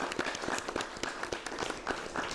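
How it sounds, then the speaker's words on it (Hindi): An audience claps steadily in a brief, dense burst of many hands, moderately loud and continuous, with no talk over it. "तो खुद के लिए क्लैप करना"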